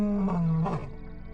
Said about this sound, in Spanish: Su rugido, profundo y ensordecedor, es su advertencia para cualquier intruso.